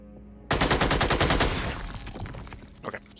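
Pistol fire in the turn-based video game Xenonauts: a loud, close burst of rapid repeated shots that starts abruptly, rattles on in a fast series, then trails off into a thinner echoing tail, with no talking.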